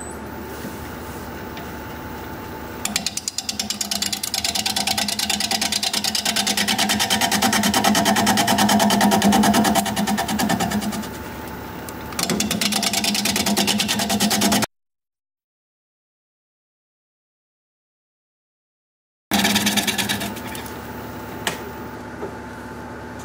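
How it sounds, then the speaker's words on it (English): A wood lathe turning a plum crotch bowl at 560 RPM with a freshly sharpened 5/8 inch bowl gouge, giving a steady, loud cutting roar that stops briefly and then starts again. "We're going to be turning at 560 RPM, 5/8 inch freshly sharpened bowl gouge"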